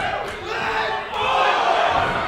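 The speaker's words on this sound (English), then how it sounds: "The crowd counting along." A wrestling crowd at a live event chants in unison, loud rhythmic group shouting that swells louder halfway through, with no individual talk standing out.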